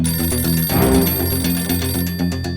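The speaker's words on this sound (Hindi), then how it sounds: "ये फोन बिना कभी भी आ जाता है।" A telephone rings loudly and continuously in a scene from the Indian mystery drama Adaalat. The electronic ringing pattern repeats over a steady background, with no talking.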